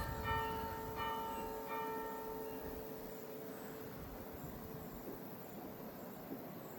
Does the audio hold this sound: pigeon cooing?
no